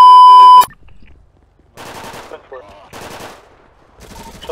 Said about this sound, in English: One suspect shot his own teammate.